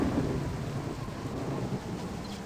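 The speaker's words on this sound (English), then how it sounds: "Now it's raining." Rain and rolling thunder in the Athkatla area of the video game Baldur's Gate, a steady, moderately quiet low rumble with constant rainfall texture and no speech.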